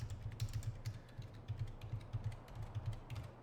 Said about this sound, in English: You can tell I've had a lot of practice at typing those numbers in.